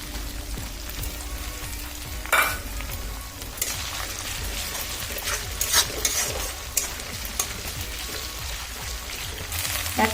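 Cumin paste frying and being stirred in a pan for a prawn malai curry, a steady hiss of sizzling with scraping spoon strokes and a few louder bursts.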